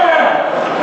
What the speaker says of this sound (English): That was the Marine Corps mating call